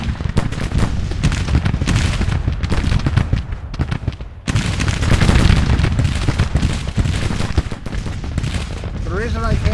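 Dense gunfire and battle noise from a Grand Tactician: The Civil War engagement on the Potomac, a loud continuous crackle of musketry and booms that briefly drops out midway before resuming, with voices over it.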